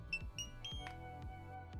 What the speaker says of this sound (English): I heard the beeping, so I let go